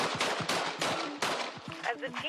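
Several sharp gunshots ring out in news footage of a police confrontation with a teenager, cracking loudly in quick succession amid shouting voices.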